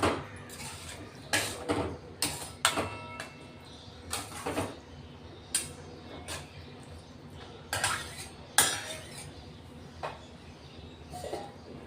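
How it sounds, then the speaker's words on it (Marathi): Spoon stirs curd into spices in a cooking pan, giving a string of light metallic clinks and scrapes spaced irregularly and fairly faint. "दही चांगलं मिक्स करून घ्यायचं मसाल्यांमध्ये"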